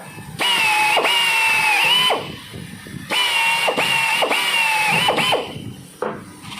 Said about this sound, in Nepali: हावाले चल्ने मेसिन हुन्छ। मेसिन चाहिँ हावाले चल्छ, यो सानो।